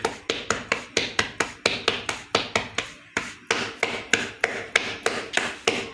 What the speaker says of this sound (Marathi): भाकरीचा उंडा आपण आल्लाद हाताने थापून घ्यायचा आहे